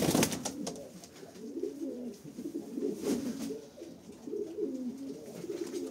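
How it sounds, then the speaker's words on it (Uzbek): Several pigeons coo in low, rolling bursts, one after another, fairly close but soft, with faint background noise and no voices. "Mana hamma istab yurgan kaptar deydi"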